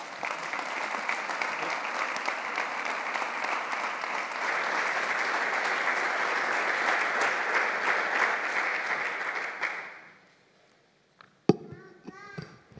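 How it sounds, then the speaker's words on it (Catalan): Audience applause for Sergi Roberto at his farewell from FC Barcelona, a steady dense ovation lasting about ten seconds before stopping abruptly, followed by a few sharp knocks and a brief voice. "Sisplau, un aplaudiment pel Sergi."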